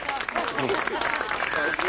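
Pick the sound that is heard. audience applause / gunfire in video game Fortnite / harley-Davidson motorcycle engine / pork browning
audience applause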